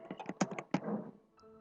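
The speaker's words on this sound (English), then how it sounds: "I'll be doing my typing" Quick bursts of keystrokes on a computer keyboard while working in CorelDraw, several close, light clicks in an uneven rhythm followed by a brief pause and one more tap.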